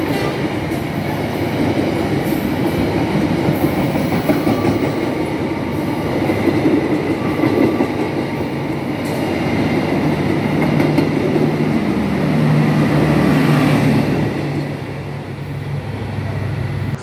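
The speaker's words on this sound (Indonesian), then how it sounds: "ini kereta yang akan melintas langsung di sini di jalur 4" The Bangunkarta passenger train from Pasar Senen to Jombang rumbles past on track 4, loud and close, with metallic rolling and clattering that fades slightly near the end.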